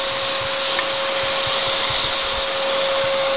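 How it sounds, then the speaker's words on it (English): Dust extractor running steadily during cutting work on a jewellery box, a loud constant whooshing airflow with a fixed whining tone underneath and no pauses. "I think I'm going to stop the extractor"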